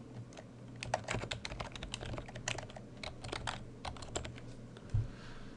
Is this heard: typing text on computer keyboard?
yes